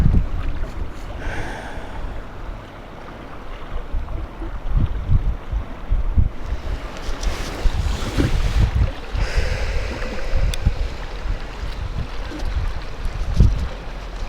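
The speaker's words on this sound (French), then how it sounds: "Avec le bruit des vagues qui nous accompagne dans le beau soleil" Steady ocean waves wash and break along a sunny shore, a continuous broad rush with swelling surges and some wind buffeting the microphone, heard alone.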